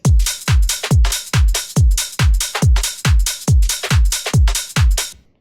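Programmed organ house drum pattern plays alone, a steady four-on-the-floor run of deep punchy kicks with bright crisp hits layered on top, about a dozen even beats, loud and close.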